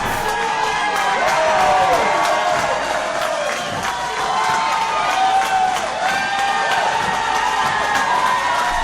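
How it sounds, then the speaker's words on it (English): A packed arena crowd cheers and shouts throughout a steel cage wrestling match, loud and sustained with whoops and screams rising above the roar, while a voice talks underneath. "this crowd is electric"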